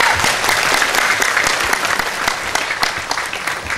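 A crowd at a Sinau Ngaji Bareng religious gathering with Cak Nun and Kiai Kanjeng claps in a thick, sustained burst of applause, loud and steady throughout with a few sharper individual claps standing out.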